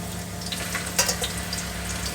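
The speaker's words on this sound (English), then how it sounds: "Hear that sizzle?" Drained potatoes hit a pan of hot fat straight from the oven, giving a close, steady sizzle with scattered sharp pops and crackles as they settle in.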